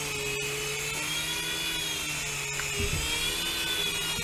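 A Syma S5 remote-control helicopter's small rotors spin with a steady high-pitched motor whine, held close, with the pitch rising as throttle is added near the end.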